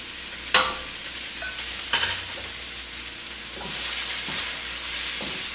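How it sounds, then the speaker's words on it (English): Chicken stir-frying with fresh ginger in a hot pan gives a steady broadband sizzle, broken by a few sharp utensil clanks and scraping stirs close by, with no voices. "And I'm just going to let this stir fry"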